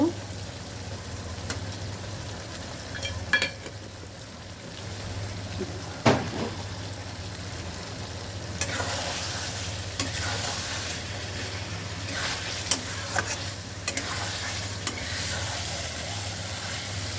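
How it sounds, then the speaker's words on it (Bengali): Spices sautéing with potatoes in a pan for vegetarian dum aloo, an even sizzle with spatula scrapes and a sharp clack around the middle, the frying growing brighter and denser toward the end. "এবার মশলাটা ভালো করে কষা হয়ে গেছে আলুর সঙ্গে"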